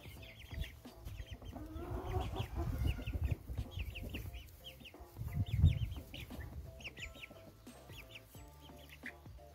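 Chickens cluck repeatedly at close range, with a farmyard bustle of overlapping calls and scattered noises throughout.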